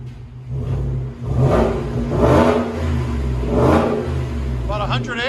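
Ford F150 with a 5.0 Coyote V8 and aftermarket exhaust revs in three strong, deep rising bursts, loud and close, with a brief voice near the end.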